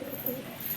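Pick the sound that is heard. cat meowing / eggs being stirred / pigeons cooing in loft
pigeons cooing in loft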